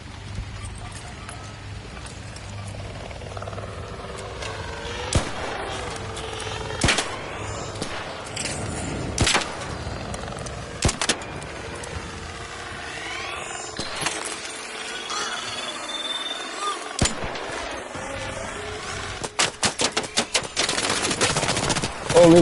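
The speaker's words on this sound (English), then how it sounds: "What's shooting me?" Automatic gunfire aimed at the player in the shooter game Arc Raiders, with repeated sharp bursts and shots cracking over a busy game soundscape throughout, loudest in a rapid volley near the end.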